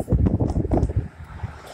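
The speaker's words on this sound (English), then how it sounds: "If the wind gusts go up like this, I can't put my tent up anywhere." Strong wind gusts during a dust storm in Odessa, Texas, batter the microphone. The roar is close and rough and pulses in quick surges before easing slightly.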